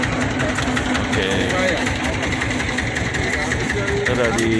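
The engine of a small, crowded ketek motorboat drones and rattles steadily up close while people talk over the constant mechanical chugging.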